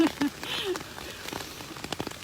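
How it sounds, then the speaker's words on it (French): Rain patters steadily on a surface outdoors, a soft close hiss with scattered sharper drops and a brief muffled voice at the start. "elle est belle cette pluie"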